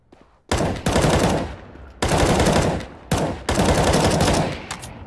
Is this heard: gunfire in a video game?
yes